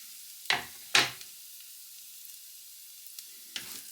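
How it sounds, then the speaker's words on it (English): Onions frying in a pan, three sharp sizzling bursts over a faint steady hiss, as if stirred or tossed, with no talking. "And then we fry these onions for around 2 minutes."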